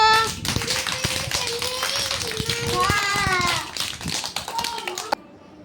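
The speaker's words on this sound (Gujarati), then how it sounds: "ચાલો ઉમેરાની જોરથી તાળીઓ." A group of schoolchildren claps hard for a classmate, with uneven close claps mixed with chatter and an adult voice before the clapping stops abruptly.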